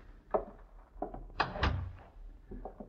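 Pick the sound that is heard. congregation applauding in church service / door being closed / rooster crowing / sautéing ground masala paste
door being closed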